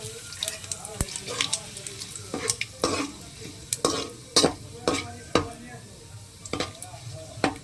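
Whole cloves, green and black cardamom, bay leaf and cumin seeds sizzle and fry in hot oil for a mutton kosha, with repeated sharp stirring scrapes of a spoon in the pan over a steady close crackle.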